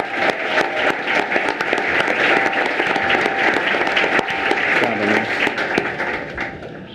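An audience at a school board meeting applauds steadily, a sustained wash of clapping from a roomful of people with a few faint voices underneath.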